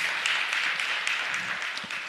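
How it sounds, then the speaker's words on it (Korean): A church congregation applauding at a Friday family prayer service after children and adult singers perform, steady dense clapping held at a constant level throughout, without talk over it. "우리 어른들 싱어들도 박수 한번 쳐주십시오."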